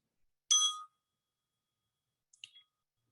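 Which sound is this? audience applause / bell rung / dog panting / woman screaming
bell rung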